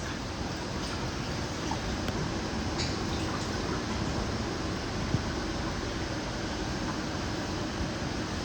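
Excess water drains out of seed starting flats in a steady soft trickle and hiss, with faint occasional drips over the continuous flow.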